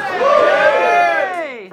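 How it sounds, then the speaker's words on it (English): An audience at a live comedy show at The Royal George gives a loud, close whooping cheer that rises and slowly trails off over a couple of seconds. "Give us a cheer if you've been to live comedy before."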